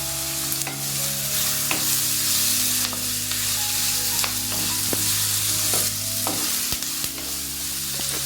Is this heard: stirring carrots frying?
yes